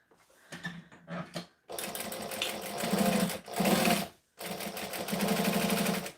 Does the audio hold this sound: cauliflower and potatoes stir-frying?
no